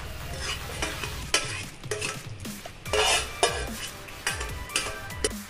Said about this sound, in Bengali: এটাকে সামান্য মিক্স করছি।